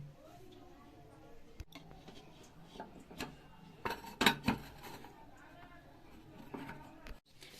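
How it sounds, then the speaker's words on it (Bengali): A metal pan of fruit cake batter knocks and clinks against the inside of a pressure cooker, with a few close clanks and taps while someone speaks. "এবার এটা আমরা বসিয়ে দিচ্ছি প্রেসার কুকারের ভিতরে"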